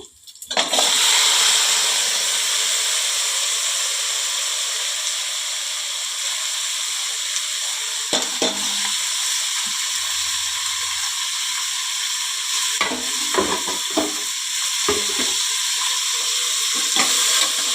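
Onion, tomato and dried red chillies hit hot oil and fry with a loud, sustained sizzle, while a spoon scrapes and clatters against the pan in short bursts as the mix is stirred.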